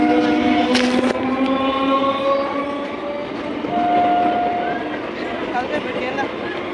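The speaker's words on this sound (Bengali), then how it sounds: "দাঁড়াও, ট্রেনটা যাক" A train moves through a railway station, a rumbling carriage roll with a sharp burst near the start and passing tones, loud and close throughout while people talk over it.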